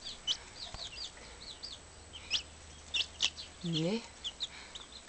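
Small chicks feeding on egg mixed into their food: repeated high, thin peeps scattered throughout, close by, with a short spoken word and a voiced murmur partway through.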